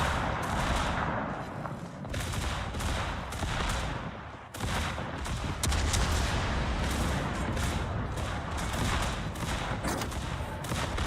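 Naval secondary guns on a World of Warships battleship fire in dense, continuous volleys, with rapid overlapping booms and cracks over a constant rumble for the whole stretch.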